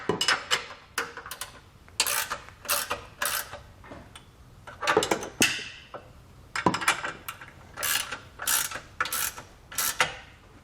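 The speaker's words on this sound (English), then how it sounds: "With all of our hardware in place and hand tight, now we can snug it down using a couple of wrenches." Ratchet wrenches snug down trailer hitch bolts on a 2020 Jeep Wrangler Unlimited, giving repeated close, metallic clicking bursts with short pauses between strokes.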